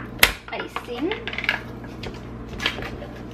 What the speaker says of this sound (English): Get a little butter knife and open your icing